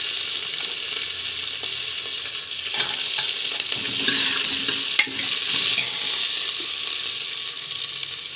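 Cabbage, beans and other cut vegetables stir-fried in a pan, a steady close sizzle with scraping stirs and clatter of the utensil throughout, no talk.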